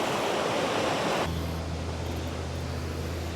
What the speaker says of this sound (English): Just as much or more water coming out this side too, huh?